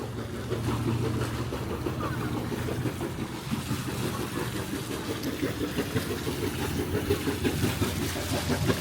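A steel trawler's diesel engine runs steadily at idle, a loud continuous low rumble with watery exhaust splashing, with no break for the whole stretch.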